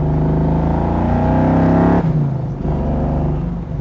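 A 1961 Chevrolet Corvette with fuel injection drives loud and close, its engine humming steadily with strong harmonics before easing off partway through, then carrying on at a lower, rougher note.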